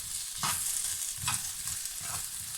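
Food fries in a pan with a soft, steady sizzle, broken by three brief scraping stirs at even intervals, close and fairly quiet, with no talk.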